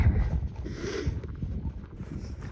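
A breeze blowing across a forest hiking trail near Nordegg, Alberta, heard as a low, continuous rumble of wind buffeting the microphone, fairly loud and close throughout with no voices.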